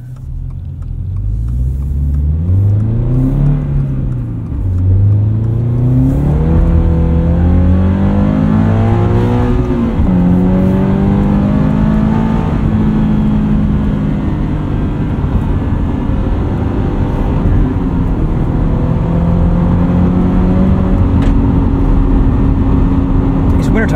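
Subaru BRZ fitted with a catted UEL header and winter tires, driven at steady speed with engine tones rising and falling through gear changes, a continuous close rumble inside the cabin.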